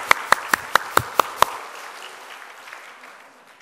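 Seven sharp, evenly spaced claps ring out in steady rhythm from a church congregation during a sermon, then stop and leave a fading room tail.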